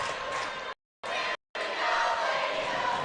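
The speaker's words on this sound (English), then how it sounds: "You hear some noise in the crowd, isn't it?" A crowd at a basketball game keeps up a steady murmur and roar that drops out briefly twice before swelling again, with voices mixed into it.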